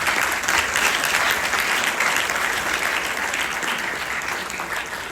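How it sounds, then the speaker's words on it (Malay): Steady, sustained applause from a seated audience at a secondary-school debate final, dense clapping filling the hall at even loudness throughout and tapering only slightly toward the end, with no voices over it. "Marilah kita semua berikan mereka tepukan tangan"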